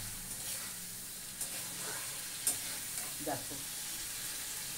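Prawns and black cumin seeds sizzle and fry steadily in a hot pan, a continuous crackling hiss with occasional stirring scrapes, while someone speaks briefly over the cooking.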